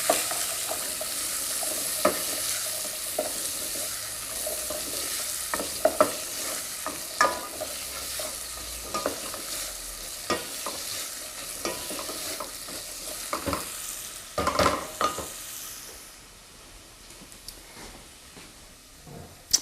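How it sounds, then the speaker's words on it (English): Diced red capsicum sizzling and frying in a pan while being stirred, with a steady close sizzle broken by scraping clicks of the spoon, fading slightly toward the end. "About half a red capsicum I've diced. Give that a little stir."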